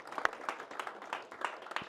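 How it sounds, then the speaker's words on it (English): Brief, sparse clapping from a small group, a handful of uneven claps pattering close by for a couple of seconds. "So give Jack a big round of applause for winning that one."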